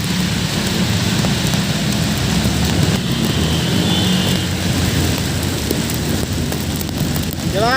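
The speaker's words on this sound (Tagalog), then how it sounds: "Grabe ulan, lakas." Heavy rain pours steadily during a flood, a dense, loud roar of water with no let-up, heard up close.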